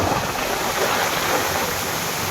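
Monsoon floodwater pours through town streets in a steady, loud, broadband rush that fills the space without a break and without any voices.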